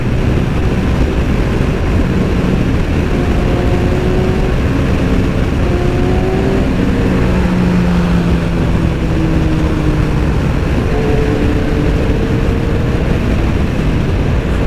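A Kawasaki Ninja ZX14R is ridden at night, its engine holding a loud, steady drone with slowly gliding tones as it rises and falls in pitch while cruising.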